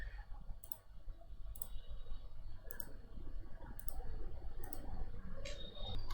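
Computer mouse clicks while beams are added in STAAD Pro structural software: six crisp, evenly spaced single clicks about a second apart, close and fairly quiet over a low room hum, with no talking.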